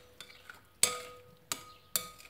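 Spoon stirring chopped onion with white vinegar and hot water in a bowl: three sharp clinks of the spoon against the container, with soft scraping between them, fairly quiet and close.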